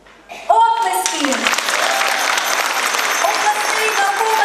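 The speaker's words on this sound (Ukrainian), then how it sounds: "Оплески!" An audience claps loudly at a Christmas nativity play (vertep) event with carols, the applause bursting in after a brief announcing voice and holding steady to the end.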